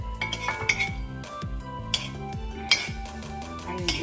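Metal spoon scraping and clinking against a pan as cooked dry methi bhaji, Nashik style, is taken out, with repeated close scrapes and sharp knocks, some faint sizzle beneath and no talk.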